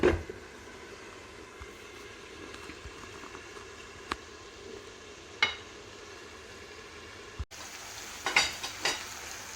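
Meat sautés in butter in a pan, a soft continuous sizzle close by, broken by a few sharp clinks and stirring knocks, louder clattering near the end, with no talk.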